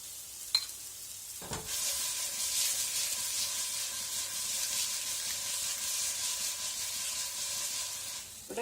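An egg fries in a pan with a steady, continuous sizzle after a brief clatter, close and moderately quiet, with no talk over it.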